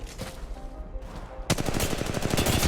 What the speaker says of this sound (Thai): ศัตรูกำลังยิงใส่ฉัน